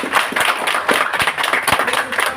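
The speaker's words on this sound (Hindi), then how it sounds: "तो मैं चाहूंगा एक बार जोरदार ताली" A seated audience bursts into loud, enthusiastic clapping, dense individual claps close by with uneven rhythm and no voices over it.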